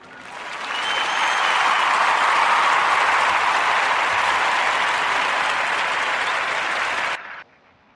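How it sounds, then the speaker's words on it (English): A podcast studio audience gives a sustained round of applause, steady and dense for about seven seconds before cutting off abruptly. "So give him a round of applause."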